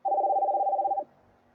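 A single steady telephone ring tone sounds for about a second during a call that has already been answered, then cuts off, leaving faint background hum.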